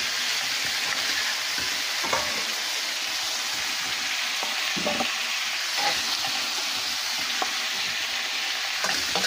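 Cauliflower and potato fry lightly in a pan, with a loud, continuous sizzle throughout and occasional soft knocks and scrapes of stirring.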